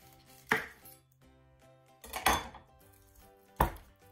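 A knife chops down through a pineapple to take its top off, three distinct, heavy thuds spaced a second or more apart on a board, close up and with no talking.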